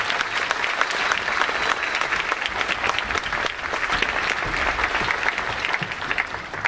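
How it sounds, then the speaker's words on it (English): A school audience at a middle school winter concert applauds beginner instrumental students in their first year, with loud, dense, steady clapping that fills the room for the whole stretch. "Can we give them a round of applause?"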